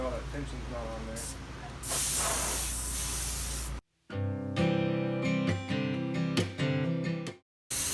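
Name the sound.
water spraying from a garden hose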